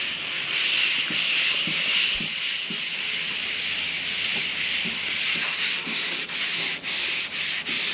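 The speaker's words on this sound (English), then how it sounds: "the Scotch-Brite pad will get down in any of those little divots and put a little surface on that" A Scotch-Brite pad scrubs the surface of a fiberglass boat part, giving a steady, close, continuous abrasive rubbing with faint rhythmic strokes and no voices.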